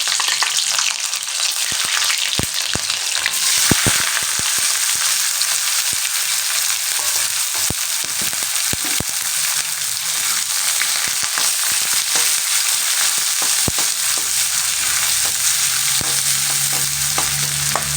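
Green chillies and mixed vegetables frying in oil in a pan, a steady, dense sizzle running throughout with occasional crackles and pops, close and fairly loud with no voices.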